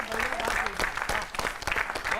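Applause from a crowd at a Hindi comic poetry show, steady clapping with a voice calling out over it.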